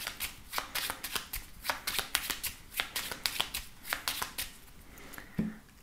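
A 32-card deck being shuffled: a steady run of crisp riffling flutters and soft card slaps, close and fairly quiet, with no talking.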